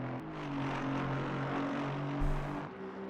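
A low, droning engine rumble from an Aston Martin GT3 racer in the Assetto Corsa Competizione game at Bathurst, steady and near, with a brief swell and shift in pitch toward the end.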